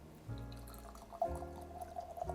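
Bardstown Bourbon Company and Foursquare Rum collaboration spirit poured from the bottle into an oddly shaped glass, a close, steady trickle of liquid with a rising fill tone, no talking.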